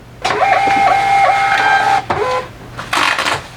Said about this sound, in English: y'all need a label printer. It just makes everything so easy.